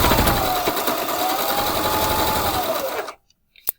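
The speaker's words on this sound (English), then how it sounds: "now I'm going to take it over to the machine and we're just going to sew across the top" A sewing machine runs steadily and loudly, stitching across the top of a fabric face mask, its motor whirring in a continuous drone for about three seconds before stopping abruptly, followed by a brief click.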